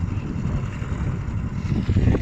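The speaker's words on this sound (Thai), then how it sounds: "ฝนตกแล้วครับ ฝนตกลมแรงน้ำแรง" Strong wind and rain batter a small fishing boat on the Bang Pakong River, a dense rumbling gust noise across the microphone that swells slightly toward the end.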